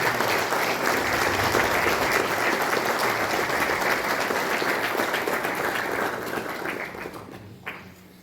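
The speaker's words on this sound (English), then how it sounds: "Let's have a big round of applause" A large audience applauds loudly and steadily at a government launch event at NIELIT Kohima, the dense clapping holding for several seconds before tapering off near the end.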